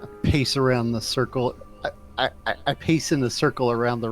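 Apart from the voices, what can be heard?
No distinct noise like a dog, phone or traffic.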